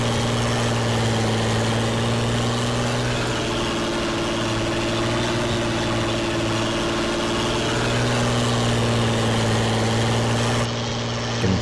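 Tractor engine running steadily while clearing tree stumps, a constant low droning hum with a strong steady pitch, close and fairly loud, with no talk over it.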